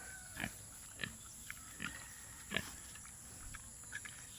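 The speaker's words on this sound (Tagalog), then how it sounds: "ayan po ang mga native na baboy" Native pigs at a Mangyan village make several short grunts spaced a second or so apart, soft and close, over a steady background hum.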